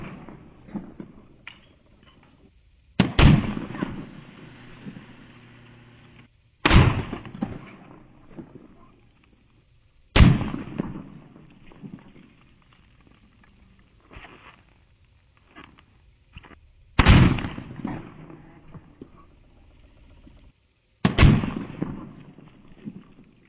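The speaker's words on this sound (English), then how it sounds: "Okay, so I shot it three times, one, two, and three." A muzzleloader loaded with Pyrodex powder fires at a gravel armor target, five loud sharp booms spaced several seconds apart, each decaying into quiet rustling and handling noise.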